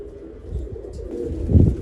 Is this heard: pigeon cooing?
yes